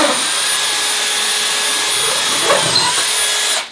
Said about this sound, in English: we're gonna put our big bit, oh my gosh, through to make sure our measurement for the joist is correct